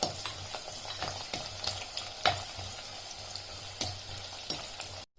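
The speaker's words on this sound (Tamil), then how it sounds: "இந்த 20 போல் ஷேலட்ஸை உள்ளே போட்டு நல்லா வதக்கி விட்டுக்கோங்க" Shallots and fenugreek seeds sautéing in a mud pot, with a soft, quiet sizzle and occasional clicks and scrapes of stirring, fairly close, ending abruptly in silence.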